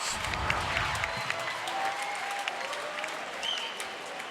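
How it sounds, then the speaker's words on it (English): A high school boys basketball crowd applauds and cheers after a wide open three, a steady wash of clapping and crowd noise at moderate distance throughout, with faint voices mixed in. "you can hear this crowd reacting to that"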